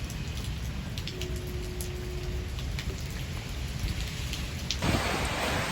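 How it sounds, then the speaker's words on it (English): Steady rain falls in a dense, hissing patter on surfaces nearby, continuous throughout, with a brief louder splash of water toward the end. "it's raining"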